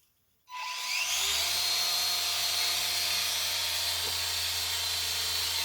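RC autogyro electric motor opened to full throttle, starting abruptly after a moment of silence and settling into a loud, steady whine and hiss as the rotor blades spin, with no talking.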